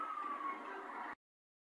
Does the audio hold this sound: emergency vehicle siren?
yes